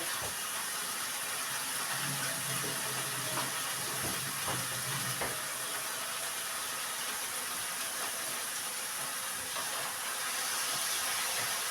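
Water running steadily from a tap over tomatoes with a constant hiss, with a few light knocks and clatters near the start.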